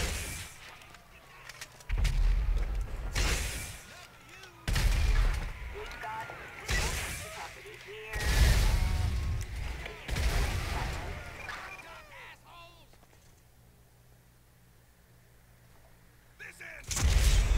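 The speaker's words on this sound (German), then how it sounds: "Und die Explosion hat mich komplett weggerissen." Rocket launcher and C4 explosions in Grand Theft Auto 5 boom in a series of heavy blasts a second or two apart, each with a rumbling tail, followed by a quieter lull and one final blast.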